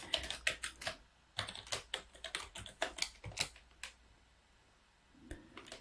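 Quick bursts of keystrokes on a computer keyboard as a passphrase is entered, crisp close clicks in uneven clusters separated by short pauses, faint and alone.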